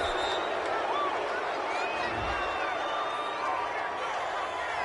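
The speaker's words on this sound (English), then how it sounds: "this crowd does not like that call" Stadium crowd at a football game reacting to a penalty call, a dense, sustained roar with scattered whistles and shouts, mixed with indistinct voices.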